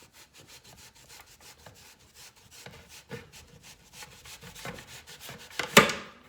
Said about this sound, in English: we're just going to trim, you know, just trim the gunk off of it